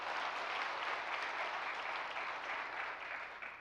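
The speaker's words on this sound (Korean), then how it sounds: "이렇게 또 크게 박수를 쳐주시니까 힘이 납니다." Church congregation at a spring revival service applauding, a dense sustained clatter of many hands clapping together at moderate distance, easing slightly toward the end.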